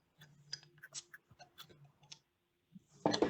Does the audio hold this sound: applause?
no